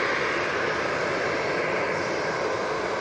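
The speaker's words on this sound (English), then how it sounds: "A321 Neo now coming on" An Airbus A321neo airliner at Manchester Airport, its jet engines giving a loud, steady broadband roar that holds constant throughout.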